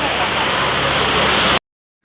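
Heavy rain falls in a loud, close, unbroken wash for about a second and a half, then cuts off abruptly into silence.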